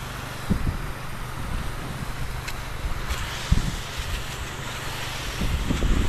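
Gusty wind buffets the microphone, making a continuous rushing noise with occasional low thumps. No one speaks.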